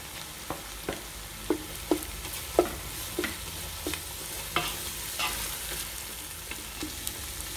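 Onion and ginger-garlic paste sauté in a pan for mutton biryani, a continuous sizzle broken by a regular series of sharp spoon-on-pan scrapes and taps, close and alone with no talking.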